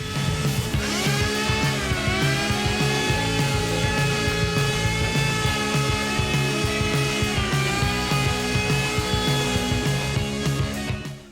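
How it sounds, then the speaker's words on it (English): Steady loud power sanding on the plastic front fender of a 1984 Honda ATC 110 three-wheeler, a continuous whirring grind that holds constant throughout, close up. "it's time to sand up the front fender"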